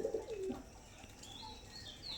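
Domestic pigeons for sale give a soft, low coo at the start, followed by faint chirps and a few thin, high calls against a quiet background.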